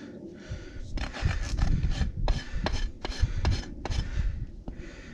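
A farrier's rasp files a horse's hoof to level it, making close, rough scraping strokes in a steady back-and-forth rhythm of roughly a dozen passes.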